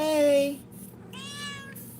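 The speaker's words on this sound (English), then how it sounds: "She's a foster kitty." A foster kitten meows twice up close, one longer cry followed by a shorter, rising one after a brief pause.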